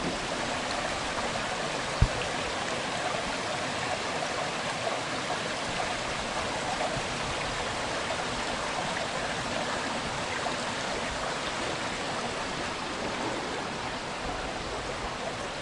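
A creek runs steadily beneath a footbridge along a hiking trail, its broadband rushing wash holding even and close for the whole span, with one brief sharp knock early on and no talk.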